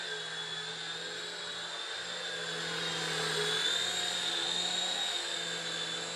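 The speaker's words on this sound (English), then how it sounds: "Really stable helicopter." Eachine H101 infrared-controlled indoor toy helicopter hovering nearby, a steady high-pitched whirring motor whine with a faint rotor buzz that swells slightly midway, continuous throughout with no voices.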